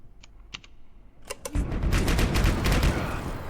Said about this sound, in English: You reset the system and turned the guns on those apes.